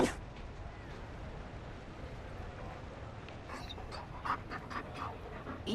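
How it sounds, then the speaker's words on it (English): A Mabari war dog in the video game Dragon Age: Inquisition pants steadily in quick, soft breaths, close by, with faint game ambience underneath and a few sharper sounds near the end. "You found a dog?"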